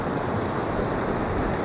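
Kings House Waterfall on a very wet day, flowing gently rather than thundering, gives a steady, even broadband rush of water with no breaks or changes.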